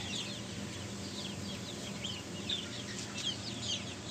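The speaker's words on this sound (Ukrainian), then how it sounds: "Перша партія курчаток, старша група, вже гуляє на вулиці." Young chicks cluck and chirp softly outdoors, a scattered flock calling over a low steady background.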